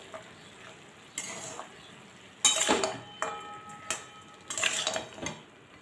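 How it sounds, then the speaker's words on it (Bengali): A bottle gourd leaf curry with pumpkin, eggplant and fried lentil dumplings is stirred in a pan, with a low sizzle and several loud scraping, clinking strokes of the spoon against metal. "এবার এগুলো খুব ভালো করে মিশিয়ে নেব"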